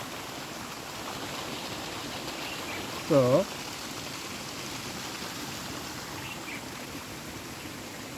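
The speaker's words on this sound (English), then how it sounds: "But right now, it is a water stream." Rainwater runs down a Himalayan mountain footpath as a stream, a steady broadband rush of flowing water under rain, with a brief spoken word partway through.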